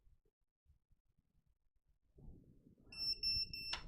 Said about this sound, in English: we'll enter pre-alarm mode and beep in low volume for 30 seconds